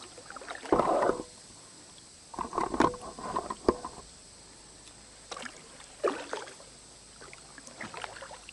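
A kayak paddled through a swamp, with soft, intermittent splashes and drips as the blade dips and lifts, fairly faint and close against a quiet outdoor background.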